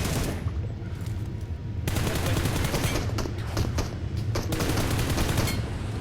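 Monster gunfire in a video game, sounding as dense continuous rapid bursts of shots that fill the clip with loud, sustained noise.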